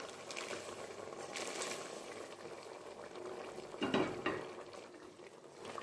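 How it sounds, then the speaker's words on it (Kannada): Vegetables simmer and sizzle in a pan as dry fish is added, a steady bubbling, frying patter with a brief louder burst of sizzle near the end, close by and without talk. "ಇದಕ್ಕೆ ನಾನು ಇವಾಗ ಡ್ರೈ ಫಿಶನ್ನು ಆ್ಯಡ್ ಮಾಡ್ಕೊಳ್ತಾ ಇದ್ದೀನಿ."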